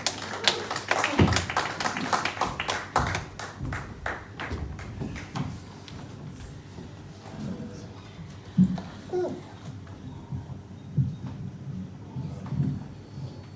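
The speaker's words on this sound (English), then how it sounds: "So big round of applause for Colin Clark." Applause from an audience at an evening retrospective event, a burst of sharp claps at the start that thins to scattered taps and fades, leaving a quiet room with a few faint voices and shuffles.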